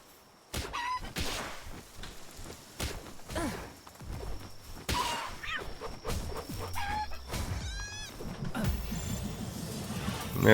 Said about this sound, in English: And this time we're going to grab a chicken.